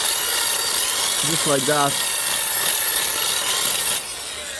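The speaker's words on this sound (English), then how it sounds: "we just used a little bit of drill, and we drilled a little bit the hole" A drill widens a hole in a car part while fitting coilovers on a Mazda MX5 Miata Eunos Roadster. It gives a steady, close, gritty grinding hiss that stops near the end, with a brief spoken phrase partway through.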